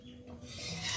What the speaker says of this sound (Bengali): এখন আমি অল্প করে জল দিয়ে দেবো, দিয়ে ডালটা ভালো করে